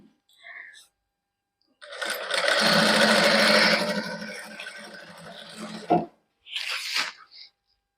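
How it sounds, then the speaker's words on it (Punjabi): A sewing machine stitches a hand-worked suit with a finishing strip and double lace. A loud, steady whir runs for about four seconds, followed by a short, quieter burst of stitching. "ਸਲਾਈ ਆਪਾਂ ਇੱਕੋ ਜੀ ਲਾਉਣੀ ਹੈ"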